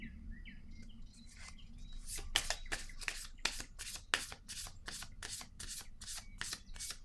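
Close, crisp riffling of tarot cards as they are shuffled and laid down, a steady series of rapid papery snaps after a brief quiet soft rustle.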